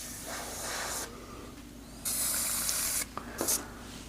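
An airbrush sprays paint of one brand in short, uneven hissing bursts, some softer and some sharper, with brief pauses between sprays; the paint comes out sputtering from mixing.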